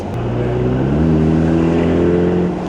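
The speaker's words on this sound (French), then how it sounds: "Oh le bruit, genre là on livre des pizzas en Ferrari" A red Ferrari 458 Spider engine drones loud and close, its steady tone climbing slowly in pitch as the car accelerates smoothly, with no talking.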